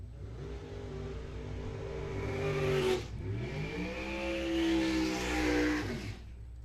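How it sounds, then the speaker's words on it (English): Drag racing car at Coles County Dragway revving hard through a burnout, two loud rising engine sweeps with a brief dip between, close and dominant with no talk. "So the burnout's complete now for your two competitors"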